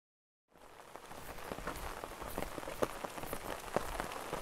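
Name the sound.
rain falling on a hiking trail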